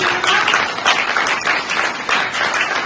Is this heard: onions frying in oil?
no